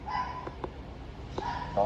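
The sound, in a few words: puppy barking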